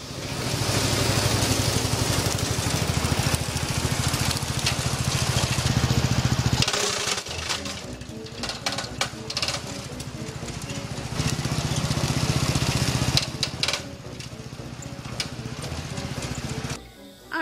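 A riding lawn mower engine running steadily up close, a rough mowing drone that dips and rises, with occasional clattering bumps.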